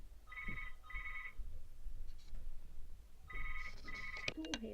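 A landline telephone rings indoors in a home, two double-burst rings early, a pause, then two more bursts, with a faint voice and small household clatter at the end.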